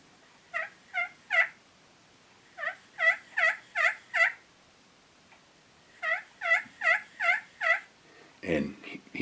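A turkey tree call imitates a wild turkey with soft, muffled yelps in three runs of three to five notes each. Brief rustling follows at the end.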